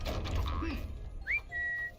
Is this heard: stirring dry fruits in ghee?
no